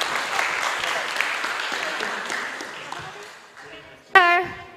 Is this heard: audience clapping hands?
yes